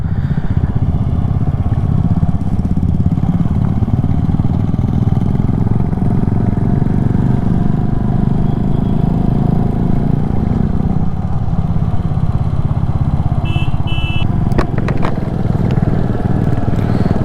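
Motorcycle engine running steadily throughout a solo ride in the Uttarakhand hills near Ukhimath, a continuous mid-pitched drone with light clatter, loud and close with no talking.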